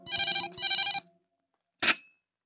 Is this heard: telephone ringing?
yes